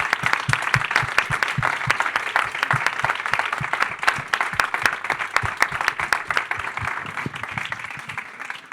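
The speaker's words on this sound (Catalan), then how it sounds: "I un aplaudiment per Samuel NACAR." An audience at a Barcelona book presentation applauds Samuel Nacar. The clapping is loud, full and continuous, with many hands sounding close and crisp across the whole stretch.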